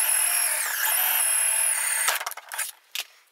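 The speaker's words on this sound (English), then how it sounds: "I drilled a hole on the bottom of the vehicle to feed the wires through" A power drill bores a hole through the plastic underside of a Big Wheels ride-on toy, a close, steady high whine for about two seconds, then stops, followed by a few short scraping and handling sounds.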